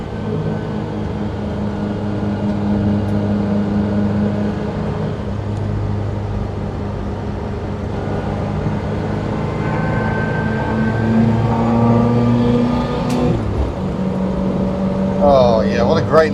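A Reliant Robin-style small car with a leaf-sprung rear axle driving along a road, its engine droning steadily from inside the cabin, a voice talking over it.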